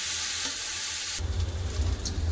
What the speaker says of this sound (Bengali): আমি এরকম করেই ভাজা করে দেবো